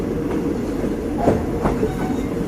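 Ordinary train 201 from Bangkok to Phitsanulok rolls along the rails with a steady, loud low rumble and faint wheel clatter, with no voices over it.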